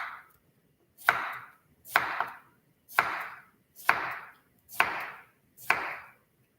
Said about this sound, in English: So I'm cutting these about 1/4 inch thick.